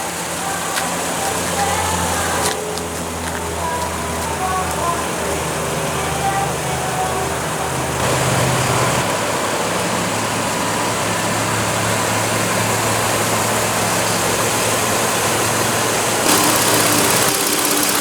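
A 2016 Nissan Frontier's 4.0-liter V6 idles steadily at close range, a continuous low rumble with faint mechanical clatter holding throughout, a brief swell near the middle, no talk over it.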